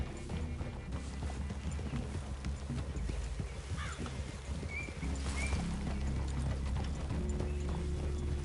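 Horses' hooves clip-clop at a slow, uneven pace near a forest clearing, faint knocks over a low rumbling background, with a brief soft whinny-like tone partway through.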